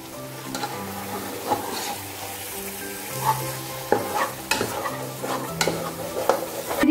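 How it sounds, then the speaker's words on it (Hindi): Cream stirred into a coconut mixture in a pan, with a continuous gentle sizzle under repeated scraping and clinking of a spoon against the pan, close and steady, no talking. "अब हम इसमें ये क्रीम ऐड कर देंगे।"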